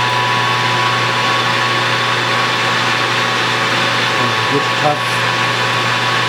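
A lathe faces off a governor spool at 1,000 RPM, a loud steady machine hum and whine running throughout, with faint cutting chatter near the end and a brief spoken remark over it.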